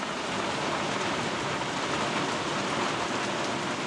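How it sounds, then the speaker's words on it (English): Heavy rain falls steadily on a boat riding at anchor, a dense, even hiss that stays loud and unbroken throughout, with no voices. "I'd say it's raining a little bit out there."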